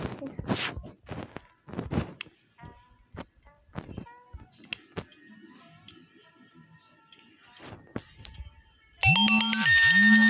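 A phone ringtone bursts in loudly near the end with a repeating electronic melody, after a stretch of scattered knocks, taps and quiet talk.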